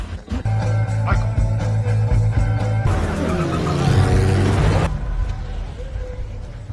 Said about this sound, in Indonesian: seketika mobil itu bergerak maju untuk melarikan diri